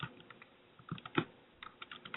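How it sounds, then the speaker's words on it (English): A caller typing busily on a computer keyboard over a phone line, with irregular bursts of soft, muffled clicks at low level and no talking. "That might be you typing away madly."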